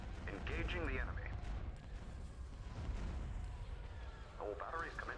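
Starship turbolaser batteries fire in the Empire at War space battle, a steady rumble of distant booms and blasts under ongoing game noise, with a voice talking briefly at the start and again near the end.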